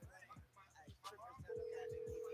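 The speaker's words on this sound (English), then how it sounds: "I'm dialing on my headset" Phone dialing through a headset: a few short beeps amid chatter, then a steady held dial tone, with someone talking over it throughout.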